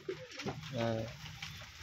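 A pigeon in a loft gives a short, soft coo with a low throaty warble, close by and fairly quiet, with faint background noise around it.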